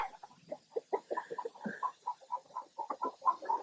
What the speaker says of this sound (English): Them's happy chickens, ain't they?